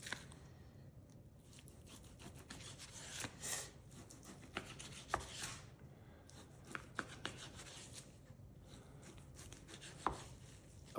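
A knife cuts pork into cubes on a board: repeated soft chops and scraping cuts in an irregular rhythm, quiet and close, with no talking.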